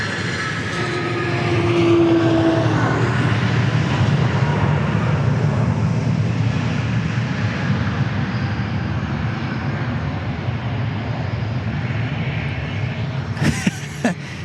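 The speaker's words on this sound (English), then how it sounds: "Oh, it's a Gulfstream. A G500 from Washington Dulles." A Gulfstream G500 jet at Dallas Love Field gives a broad, sustained engine roar that swells and then holds steady across the whole stretch, a short whine fading early on and a few sharp clicks near the end.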